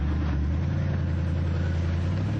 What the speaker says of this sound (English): The sound of the car needs to be recorded